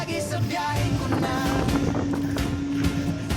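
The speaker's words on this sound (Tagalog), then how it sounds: "Mula sa dagat at baybay na presko ang hangin." Sea breeze gusts across the stern of the Ovation of the Seas cruise ship on deck 16, a continuous rushing wind buffeting the microphone with a faint wash of sea beneath.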